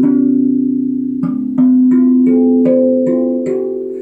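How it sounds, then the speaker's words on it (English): Handmade steel tongue drum struck with rubber mallets, a sustained low ringing tone joined by about seven clear, evenly spaced notes that chime and overlap as they decay, close and fairly loud with no talk. "my favorite way to play is with rubber mallets, because the purity of tone is just absolutely excellent."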